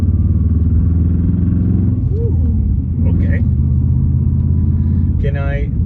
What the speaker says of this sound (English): Subaru Forester with an exhaust, because any good Subaru needs an exhaust, right?